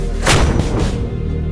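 An Indian Army 105 mm Indian Field Gun fires a single loud, booming blast, with a sharp onset followed by a long, rumbling decay.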